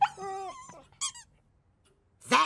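A dog gives high squeaky whimpers, a long whine followed by shorter yelping squeals with pauses between, fairly close and alone without speech.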